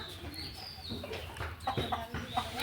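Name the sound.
chickens clucking in coop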